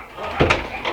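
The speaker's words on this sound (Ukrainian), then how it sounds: "Зараз я двері ще призакрию" A door in a house is pushed partly closed with a short, dull thud followed by a lighter knock, close by and brief.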